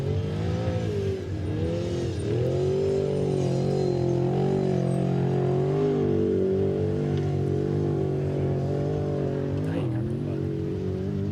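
Off-road race truck engine at the San Felipe desert race, a loud sustained revving drone with rising and falling pitch sweeps, steady and close throughout, with faint talk underneath.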